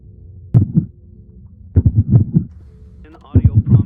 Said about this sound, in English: it sounds like some kind of distorted heartbeat